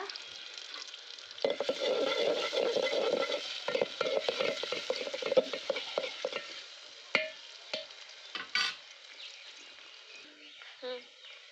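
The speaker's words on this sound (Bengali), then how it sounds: "পেঁয়াজ আর রসুন দিয়ে তেলানি দিব, তেজপাতা" Onion and garlic with bay leaf dropped into hot oil for drumstick dal, a steady sizzle broken by scraping stirs, with a voice speaking over it through the middle before the frying settles lower.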